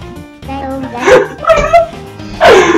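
A dog in the video game Chibi-Robo! gives a few short, bright barks and yips spread across a couple of seconds, mixed in with game sounds and a person talking.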